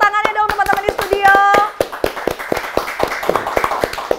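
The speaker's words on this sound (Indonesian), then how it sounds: "Boleh minta tepuk tangannya dong teman-teman di studio." Studio audience on an Indonesian automotive podcast clapping in a quick burst of sharp, close hand claps, with voices over the first part and rhythmic claps continuing after.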